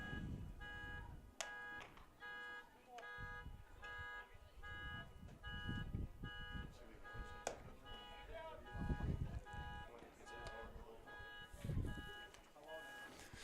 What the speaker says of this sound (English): somebody's car alarm is going off